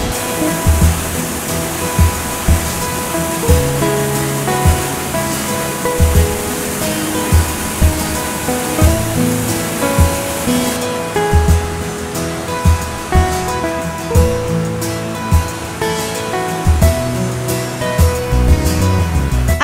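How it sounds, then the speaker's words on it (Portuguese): Cachoeira da Prata, a wide waterfall with three drops in Chapada das Mesas, Brazil, pours in a loud, dense, continuous rush of falling water, with steady roar and faint pulsing surges across the whole span. "Olha só a visão da Cachoeira da Prata. Ela é extensa, são três quedas d'água."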